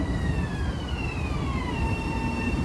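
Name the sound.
commuter train arriving at station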